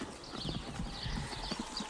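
A horse's hooves clip-clop in a quick, uneven rhythm at close range, the clear steady strikes continuing throughout, with a faint whinny-like sound in the background.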